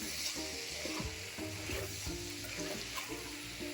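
Chili powder and spices sizzle and fry in a hot pan while being stirred, a steady crackling hiss with scraping stir strokes, close and continuous.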